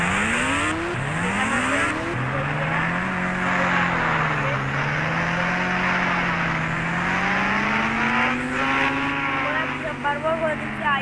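An old, battered car drives along with a steady, droning engine whose pitch rises and falls as it moves, heard up close and continuous beneath someone talking.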